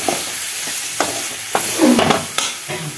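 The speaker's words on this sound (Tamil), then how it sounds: "இப்போ பீக்கங்காயும் கத்திரிக்காயும் போட்டு வணக்கி வச்சு" Ridge gourd and brinjal sautéing in a pan for a fish curry, a steady close sizzle broken by repeated scraping stirs of the spatula, with no voices.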